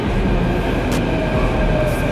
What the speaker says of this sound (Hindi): लो आ गई अपनी मेट्रो